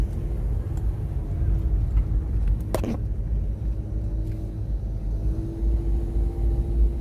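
A car driving a quiet winter mountain road to Samcheonsa temple near Bukhansan, with steady low engine and tyre rumble throughout and a brief faint click partway through.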